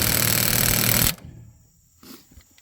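An impact wrench rattles loudly and steadily while tightening bolts on a Weighsafe trailer hitch, a continuous burst of about one second that cuts off abruptly, followed by quiet shop sounds and a faint clink.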